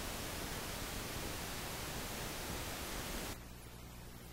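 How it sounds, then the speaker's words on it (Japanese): Test signal from the front right speaker channel on a 1987 Sony ED Beta Dolby Surround test tape, a steady, loud hiss of broadband noise that cuts to a quieter hum after about three seconds. "前面右チャンネルの信号です。"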